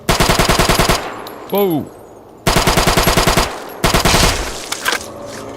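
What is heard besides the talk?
heavy weapon machine gun firing in video game Fallout New Vegas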